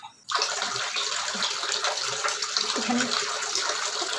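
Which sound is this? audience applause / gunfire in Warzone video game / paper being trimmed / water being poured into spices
water being poured into spices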